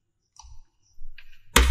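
Clicking and key presses on a computer during photo editing: a few small, soft taps, then one loud, sharp press of the Enter key near the end, all close to the mic.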